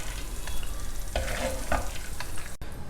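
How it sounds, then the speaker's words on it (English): Peanuts roast and are stirred in a pan while making a chapathi lunchbox dish, giving a steady sizzle with a few scraping stirs, close and moderately loud with no talk. "See, the peanuts are well roasted now."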